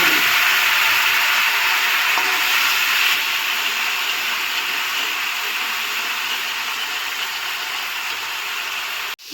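Onion and garlic frying in a pan give a steady, even sizzle and hiss close by, holding without a break for about nine seconds before cutting off abruptly at the end.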